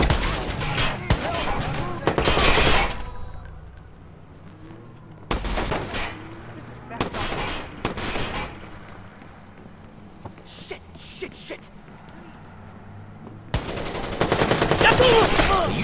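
Video game gunfire in Watch Dogs, bursts of rapid shots in clusters separated by quieter gaps, loud and close, with game characters talking between volleys.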